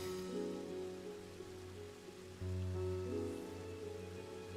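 Steady rain in the video game Final Fantasy XIV, a dense continuous hiss of falling water with a low sustained musical drone beneath it, even in level throughout and with no voices.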